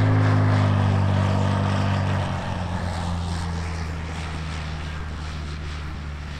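A small propeller airplane on final approach at EAA AirVenture Oshkosh drones with a steady engine hum that slowly fades as it passes, with no voices over it.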